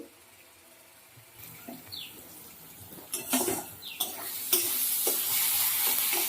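Tomato fries with spices in a pan while a spoon stirs and scrapes it in short strokes. The sizzle starts faint and grows louder and denser toward the end.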